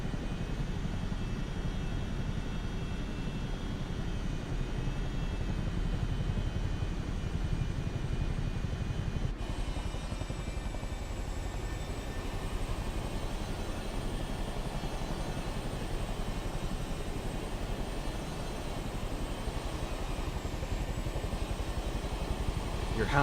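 A Chinook twin-rotor helicopter in Microsoft Flight Simulator 2024 drones in flight with a continuous turbine whine and a low rumbling rotor wash, steady and unbroken, with a slight change in tone partway through.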